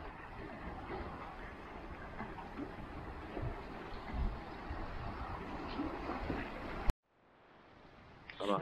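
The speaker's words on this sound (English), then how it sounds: "Don't you love the sound of the bay and ocean waves hitting everything?" Waves from the Chesapeake Bay and ocean wash against the shore at sunrise, a steady broadband rush of water that holds for several seconds before cutting off abruptly.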